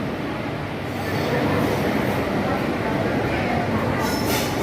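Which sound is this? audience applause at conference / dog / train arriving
train arriving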